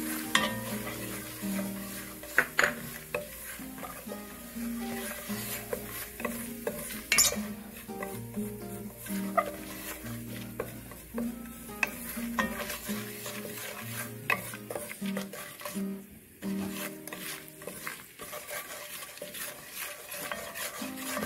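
Curry powder being stirred into a sizzling pan while cooking Jamaican vegan curry chickpeas: a quiet, continuous sizzle with repeated scraping and clinking of a spoon against the pan.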